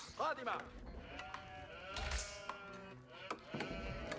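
Sheep in Age of Empires IV bleat in a couple of short, wavering calls over a quiet game background, with a voice talking over them.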